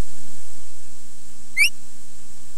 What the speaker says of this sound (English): Nope, that is a mouse.